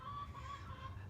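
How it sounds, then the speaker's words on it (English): Chickens cluck softly and steadily in the background, a low, continuous barnyard murmur with no talking. "as you can hear these chickens in many of these videos,"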